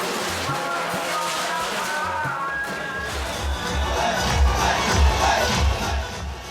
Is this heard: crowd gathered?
yes